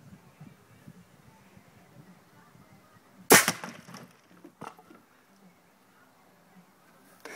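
An air cannon with a 3-inch barrel fires a Powerade bottle into a pumpkin, giving one sharp, loud crack with a short splintering impact tail, followed by a smaller knock amid quiet outdoor background.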